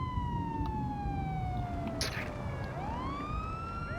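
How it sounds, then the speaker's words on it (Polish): A police car siren wails in the video game GTA V, its rising and falling tone sweeping over a dense rumble of game traffic and engine noise, steady and moderately loud. "Policja tu jedzie."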